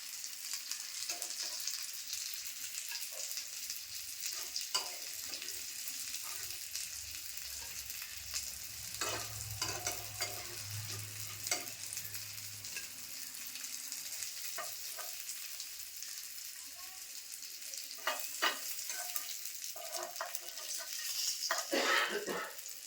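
Malvani-style surmai (kingfish) fries in a pan with a steady, dense sizzle and crackle, punctuated by occasional clinks and scrapes from a utensil, with no talking.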